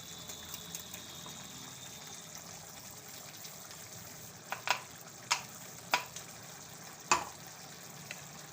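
Cashew and garlic curry with grated coconut, crushed peanut-sev and sesame powder, and coriander is stirred in a pan: a faint bubbling simmer with a handful of distinct spoon clinks and scrapes spaced a second or so apart.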